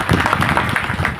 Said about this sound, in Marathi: त्याबद्दल त्यांच्या नावाने याचा टाळी आवाज.